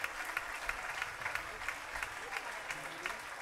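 Applause from an audience at a town festa major entremesos show after a ribbon dance, a steady wash of clapping at moderate distance, fairly faint, with a few louder claps standing out.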